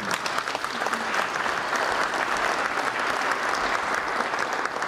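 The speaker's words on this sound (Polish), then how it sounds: "Teraz mogą być brawa." Steady applause from a congregation inside Wrocław Cathedral at the ceremony for the return of the silver altar of St. John the Baptist, a continuous wash of many hands clapping, even and fairly loud throughout.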